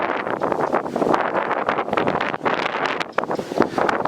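Strong wind gusting around a sailboat sitting ashore in a boatyard, a loud continuous rush with buffeting microphone noise that rises and falls in gusts throughout, no talking.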